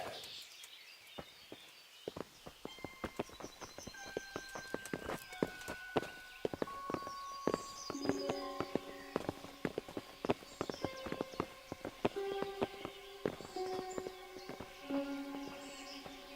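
Several horses in the medieval video game Kingdom Come: Deliverance clip-clop on hard ground, a steady close hoof rhythm alongside jingling tack and layered game music tones.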